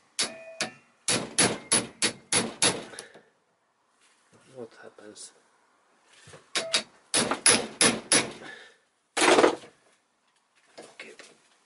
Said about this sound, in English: and then also hammering.